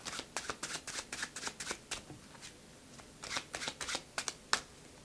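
An overhand shuffle of a deck of playing cards gives a quick series of crisp, papery riffling bursts in an irregular rhythm, close and fairly quiet, with no talking.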